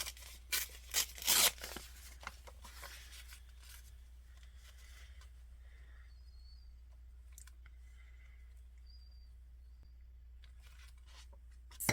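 Paper torn by hand to make a collage journal page: a few quick, crisp rips close to the microphone in the first second and a half, then near silence with only faint small rustles.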